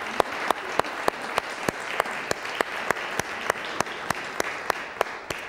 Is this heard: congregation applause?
yes